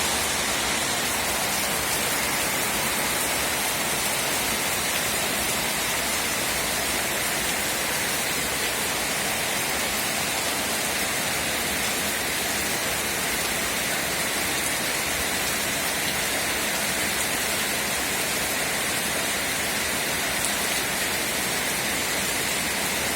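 Heavy predawn downpour in a village in Khlong Lan district, Kamphaeng Phet, spraying and soaking the ground, a loud, constant roaring wash of rain with no talking.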